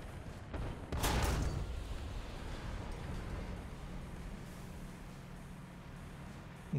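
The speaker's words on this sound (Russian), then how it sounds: "Че за выстрел был?" A single sharp gunshot cracks loudly near the start of a battle royale video game round, followed by a lingering rumble and low engine-like drone.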